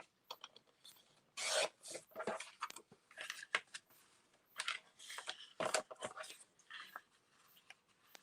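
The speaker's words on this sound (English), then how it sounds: "I'll just keep trimming it until I'm satisfied with" Paper being trimmed for a mini album, heard as a series of close, intermittent rasping cuts and rubbing strokes in irregular bursts with pauses between them.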